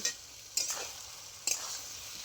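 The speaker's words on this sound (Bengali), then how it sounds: "এবারে আমি দিয়ে দিচ্ছি কষিয়ে রাখা আলু, ঝিঙে, সজনে ডাঁটা। খুব ভালো করে আরও একবার মশলার মধ্যে কষিয়ে নেব।" Potato, ridge gourd and drumstick pieces stir-fried in masala in a pan: a soft low sizzle broken by two scraping stirs, each followed by a brief flare of hiss.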